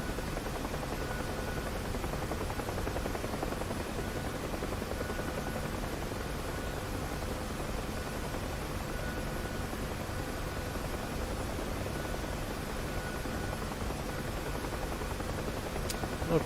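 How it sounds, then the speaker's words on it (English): Helicopter rotor and turbine drone in the DCS flight simulator game, a steady, dense whirring wash that holds evenly throughout, with no talk. "What is that? Like a little chopper."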